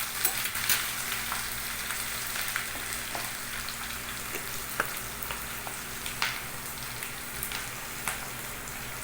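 Chicken hearts sizzle steadily in a hot pan as they fry, with scattered scraping clicks from stirring, close and continuous with no talking.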